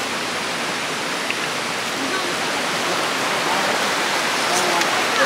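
A river flows past a riverside picnic spot in Galkot, a close, steady rushing wash that holds evenly throughout with no break.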